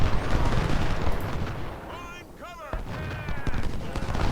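Artillery fire rumbles from the video game Ultimate General: Civil War, a Civil War battle at Chickamauga, as dense booming cannon blasts and crackling musketry roll continuously under battle noise, with brief shouted voices in the middle.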